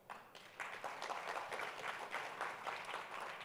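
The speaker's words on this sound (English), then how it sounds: "A round of applause for them." Applause from the audience at the NASSCOM conference, a thin, moderately quiet patter of clapping that rises after a brief pause and continues steadily, with no talk over it.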